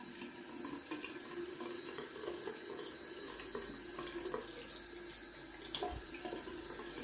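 Water runs steadily from a tap during wet shaving lather preparation, a continuous splashing hiss with occasional drips and small clatters, close and fairly quiet.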